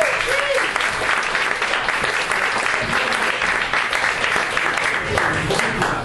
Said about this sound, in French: Philippe, on l'applaudit!